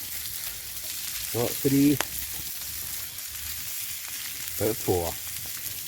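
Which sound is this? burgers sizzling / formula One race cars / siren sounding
burgers sizzling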